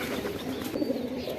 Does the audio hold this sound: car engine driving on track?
no